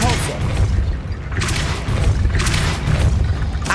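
A Depulso spell cast repeatedly in the video game Hogwarts Legacy, heard as a series of three or four heavy, thudding blasts about a second apart, each leaving a short rumbling tail.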